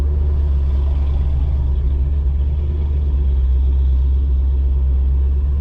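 A Dodge Challenger 5.7 R/T rolls slowly through a residential community with the windows down, its V8 giving a steady, close, deep low rumble that holds even and continuous throughout, with no talking.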